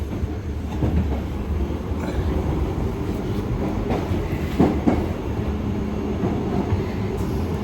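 London Underground Piccadilly line train running over old rails on the approach to Rayners Lane: a loud, steady rumble from inside the carriage, broken by sharp clicks and clanks as the wheels cross the joints.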